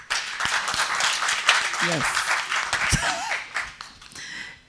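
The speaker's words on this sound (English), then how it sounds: "a better round of applause." Seminar audience at an animal welfare training event applauding, a steady wash of clapping through the room while voices speak over it and one person answers briefly partway through.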